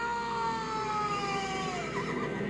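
Horses whinny during a cavalry charge in Game of Thrones, a drawn-out neigh over a dense, steady battle din.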